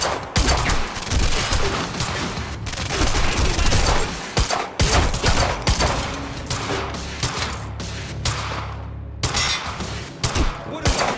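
A firefight in the video game Quantum Break: dense bursts of automatic gunfire and single shots crack close and loud, with brief pauses and rumbling booms, as voices shout over the shooting.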